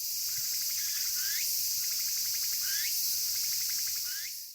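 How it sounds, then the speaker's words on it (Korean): Cicadas sing in the August woods of a Gotjawal forest: a steady, loud high buzzing drone with repeated pulsing chirp phrases rising at regular intervals, with no voices. "8월 달이 되게 되면 이제 매미들이 울기 시작하면서"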